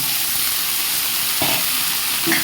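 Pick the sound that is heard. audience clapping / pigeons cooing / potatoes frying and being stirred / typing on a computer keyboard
potatoes frying and being stirred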